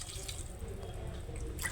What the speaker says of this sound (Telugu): దాంట్లో కొంచెం నీళ్ళు వేసి వేస్తున్నాను.